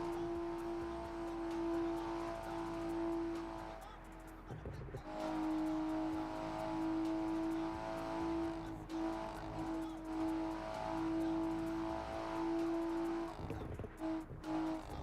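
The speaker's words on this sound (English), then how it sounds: "I'm so tired of hearing that rev limiter" A video game car engine bounces off the rev limiter, a steady high buzzing drone that holds through most of the stretch with brief dips and recoveries, loud and continuous.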